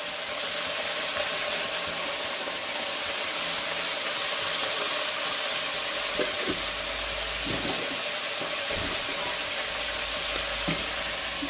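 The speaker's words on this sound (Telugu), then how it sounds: "కొంచెం వరకు డీప్ ఫ్రై కావాలి" Brinjal pieces deep frying in hot oil, a steady close sizzle and hiss throughout with a few soft stirring knocks near the end.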